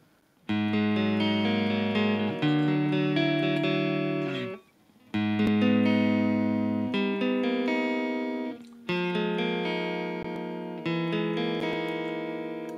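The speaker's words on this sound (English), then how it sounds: "Strat neck pickup." Clean, plain tone from a Fender Stratocaster electric guitar on the neck pickup, David Gilmour–inspired model, playing sustained chords in three phrases separated by brief pauses, with no talking.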